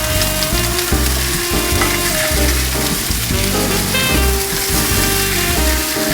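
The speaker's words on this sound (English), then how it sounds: "I'm going to sear the bottom of the fish, the back side of the fish." A salmon fillet sears in a hot pan with a steady close sizzle under rhythmic background music with heavy beats.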